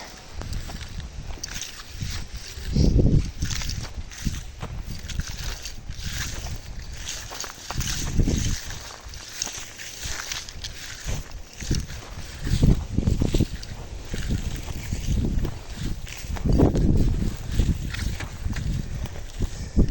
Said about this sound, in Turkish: yüksek tepedeyim ben. Rüzgar da rahatsız eder.